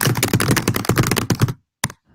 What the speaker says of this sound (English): except you'll hear my keyboard going